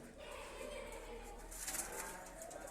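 Pigeons coo softly at a backyard pigeon house, a low murmuring call that is faint and distant under steady background noise, with a voice talking over it.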